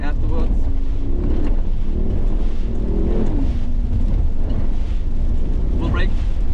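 A 2025 Mercedes-AMG G 63 drives through slippery mud, with a loud, continuous engine rumble and heavy wind buffeting on the microphone, and a few brief rising tones near the end.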